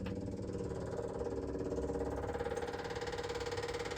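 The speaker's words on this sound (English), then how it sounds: "Let's see what that pump sounds like. Put the key on. Still sounds bad." Electric fuel pump on a 1966 International Scout with a bad-sounding fault, running with the key on: a faint, steady buzzing whir with a rapid regular pulse, alone throughout.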